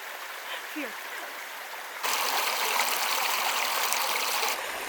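A creek runs beside a hiking trail in Banff National Park, giving a steady rushing trickle that grows louder about halfway through. A voice speaks briefly over the water early on.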